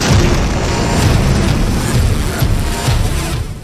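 An Israeli airstrike hitting a Hezbollah camp, a loud, sustained deep boom and rumble that rolls on for several seconds with crackling debris layered over it.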